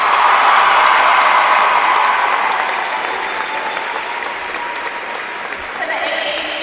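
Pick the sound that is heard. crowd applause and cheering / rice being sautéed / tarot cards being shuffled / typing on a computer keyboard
crowd applause and cheering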